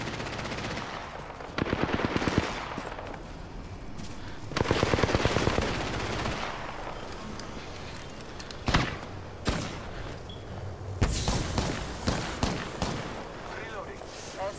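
Gunfire from the video game Apex Legends crackles in rapid automatic bursts, loud and close, with heavy sustained volleys and sharp single shots between them, under a player's excited talk.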